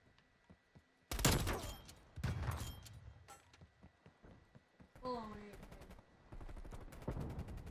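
Bursts of automatic gunfire in Call of Duty Cold War, several sharp close volleys of rapid shots, loud and spaced out, with a player's voice between them.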